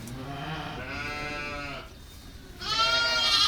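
Sheep bleat on a farm during the spring lambing season in rural Buryatia, several overlapping wavering calls, fairly close and loud, with a brief lull before another strong bleat.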